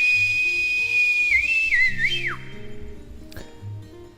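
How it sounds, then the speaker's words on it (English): A voice actor from the game Reverse 1999 whistles a steady, sustained tone that bends and wavers near the end before stopping, with low background game sounds continuing underneath. "That's the VA's whistle."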